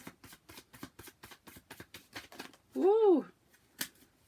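Tarot cards are shuffled by hand in a rapid series of soft, papery riffling taps, with a brief vocal exclamation partway through and a few more card slaps afterward.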